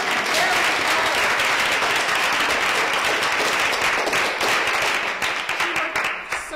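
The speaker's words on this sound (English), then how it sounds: "please applaud" Dense, steady applause from an audience fills the space, loud and continuous for several seconds before thinning slightly toward the end, with no voices on top.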